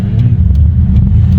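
A cammed Ford EL Fairmont Ghia engine rumbles loud and close while driving, a deep, lumpy low idle-like drone with uneven pulses throughout.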